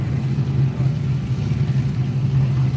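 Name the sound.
1980 Ford Fairmont drag car racing at dragstrip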